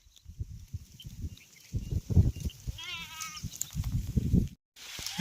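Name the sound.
sheep bleating in village field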